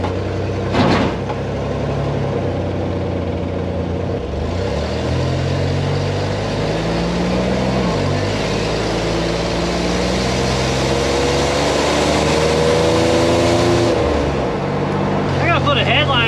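A turbocharged 1954 Chevy kustom hot rod engine rumbles steadily at idle with a deep low drone and shifting revs, while people talk over it.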